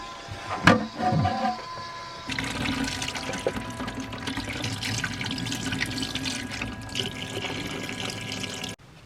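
Water from a dog's water bowl draining through a hose into a campervan grey tank, a steady broadband rushing flow after some brief handling clatter at the start, continuous and close until it stops abruptly near the end.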